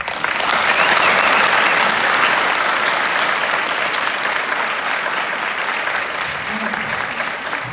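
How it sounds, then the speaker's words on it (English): A recital audience claps loudly and steadily at a dance awards ceremony, dense applause holding at an even level throughout with no break. "Again, a round of applause for the awards."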